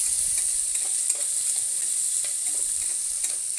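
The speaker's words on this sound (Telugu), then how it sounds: "ఉల్లిపాయలు, పచ్చిమిర్చి, ఇవి కొంచెం బాగా వేగాలి." Onions and green chillies fry in a pan for an Andhra-style bitter gourd curry, giving a steady, loud hiss of sizzling oil with faint ticks of stirring, no voices.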